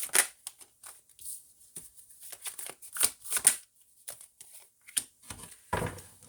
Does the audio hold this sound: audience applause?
no